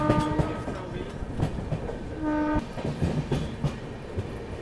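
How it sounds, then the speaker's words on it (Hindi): Marudhar Express pulling into Merta Road Junction, a steady rumbling roll of wheels with clacking beats and two sustained horn blasts, one early and one louder near the middle, with no talk over it. "फिलहाल अपनी ट्रेन पहुंच रही है मेड़ता रोड जंक्शन स्टेशन।"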